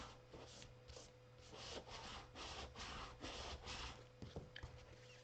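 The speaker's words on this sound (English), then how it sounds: "We're going to open that up and we're just going to rub over the top." A hand rubbing firmly over the top of a paper craft to press it flat and stick it down, a soft rhythmic scraping swish repeated close by, quiet and with no voices.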